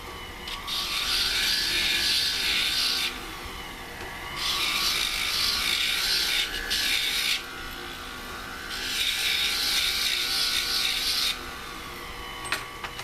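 Jewelry is being smoothed to remove plier scratches and marks, heard as three long bursts of steady, hissing abrasive rubbing separated by brief pauses, close and fairly loud with no voices.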